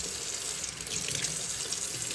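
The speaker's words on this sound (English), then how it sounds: "There is water with the llave de paso closed, and there is a very good amount of it." Water pouring steadily from a tap even though the main shut-off valve is closed, a constant full hiss of running water with no voices.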